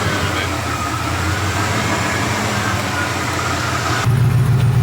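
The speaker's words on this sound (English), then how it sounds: "Let this thing idle and warm up a little bit, then let Jimmy take her for a rip." A stick-shift-swapped Ford LTD Crown Victoria idles roughly, a loud continuous engine rumble heard close up that deepens and grows heavier near the end.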